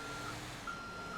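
Reversing beeps from a vehicle backing up in GTA 5 Online sound as three evenly spaced, fairly faint electronic pips over a low engine rumble.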